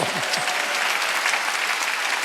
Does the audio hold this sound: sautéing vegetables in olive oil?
no